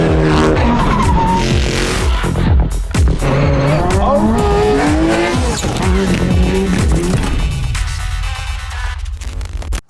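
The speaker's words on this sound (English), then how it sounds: "Today we have a 2006 Mitsubishi Evo IX open class ARA rally car." A 2006 Mitsubishi Evo IX open class rally car's engine roars loudly and continuously as it revs through gears, with tires squealing and skidding on the surface.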